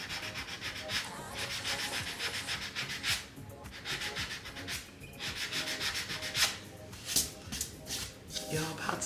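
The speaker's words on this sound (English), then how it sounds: "I'll just sand it off." Sandpaper rubs across a wood panel with watercolour paper mounted on it, a series of close, scratchy back-and-forth strokes in uneven bursts with short pauses between them.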